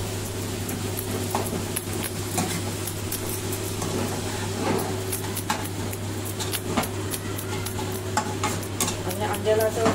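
Cooked egg being stirred into chicken fried rice in a pan over high flame, a steady soft sizzle with scattered scraping and clicking of the spatula running throughout, fairly close and without speech.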